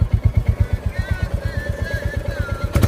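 A 2022 Royal Enfield Bullet Classic 350 single-cylinder engine idles close by, its steady low thumping beat pulsing evenly for the whole stretch, with a brief louder burst near the end.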